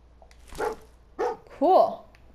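Dogmeat, the dog companion in Fallout 4, gives three short barks in quick succession, close and fairly loud, the last sharper and higher, with speech-like game audio around them.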